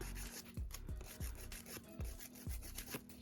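A coarse nail file from an acrylic nail kit rasping across nails in quick repeated strokes, each one a short gritty scrape with a soft knock, close and fairly quiet.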